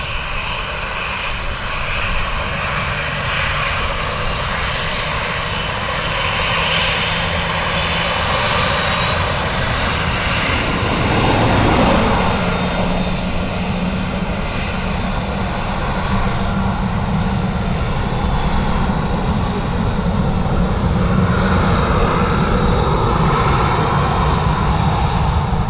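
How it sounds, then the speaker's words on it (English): An Airbus A330 airliner on approach to land at Dublin Airport, heard as a steady, loud jet engine roar that swells slightly near the middle and persists throughout, with no voices. "That's the sound of an A330 on approach."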